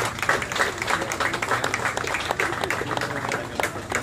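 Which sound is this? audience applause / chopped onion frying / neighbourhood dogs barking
audience applause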